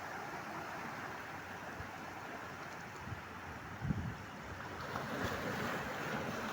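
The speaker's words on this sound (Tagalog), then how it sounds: "Grabing alon mga idol oh." Large ocean waves surge and crash against rocks along a rocky shore, a steady roaring wash with a brief heavier impact midway and wind buffeting the microphone throughout.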